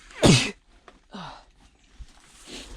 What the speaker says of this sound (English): it's not fun sneezing with a mask on